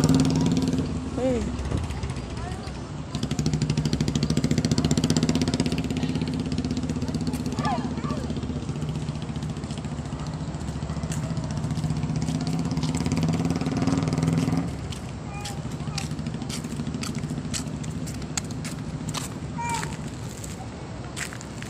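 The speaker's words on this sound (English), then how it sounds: "the bike is coming" A motorcycle engine drones steadily and grows louder partway through, then drops off abruptly near the end, heard at night at Batu Caves with people talking nearby.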